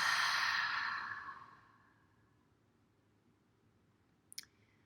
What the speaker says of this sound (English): Last one, deep breath in.